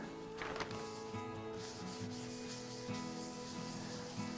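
A spalted maple burl vase on a lathe is wiped down with a cloth and denatured alcohol, giving soft, close rubbing and scuffing strokes with a faint steady hum beneath.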